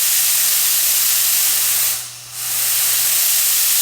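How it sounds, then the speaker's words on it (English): Steady, loud hiss of compressed air escaping from a paint gun's regulator, broken by a brief dip partway through before the hissing resumes. "This right here on the bottom is typically another regulator, so you can hear."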